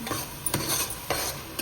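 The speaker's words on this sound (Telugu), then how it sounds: "అన్ని పచ్చివాసన పోయేంత వరకు వేపుకోవాలి" Tomato masala fries in a pan while being stirred, a soft sizzle broken by a few sharp scraping strokes of the spoon, close and without voices.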